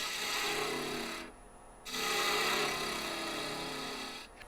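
A turning tool lightly tapering a box elder burl piece on a lathe, a steady dry rasping scrape that breaks off briefly in the middle, then resumes and fades near the end.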